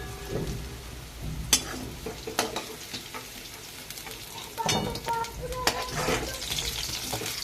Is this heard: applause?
no